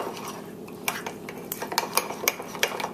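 A spoon scrapes and clinks against a mug while mixing chocolate chips into cake batter made with vanilla extract, giving a run of close, irregular metallic taps.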